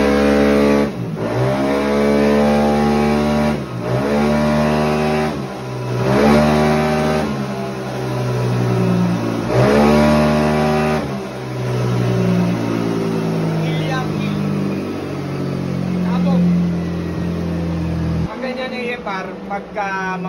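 A car engine on a dyno pulls through repeated loud rising revs, each climbing and then dropping back, followed by a longer sustained high-rpm run and an abrupt cutoff, with voices audible in places.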